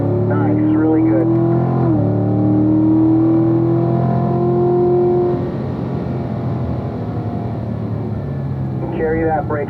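A race car on a circuit during a lead-follow track-day session, its engine holding a steady, loud droning tone with a brief shift around two seconds, a coach's voice speaking over the engine throughout.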